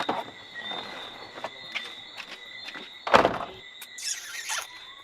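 A door in a Jamaican film scene creaks and squeals in short bursts, then slams with one heavy thud partway through, followed by more high squeaking.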